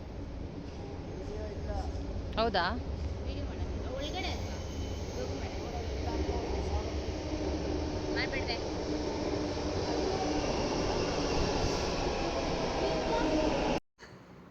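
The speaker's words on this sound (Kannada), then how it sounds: "ಮೆಟ್ರೋ ಬರ್ತಾ ಇದೆ." A metro train draws into the station with a steady low rumble and hiss that fills the background, while people talk briefly over it before it cuts off abruptly near the end.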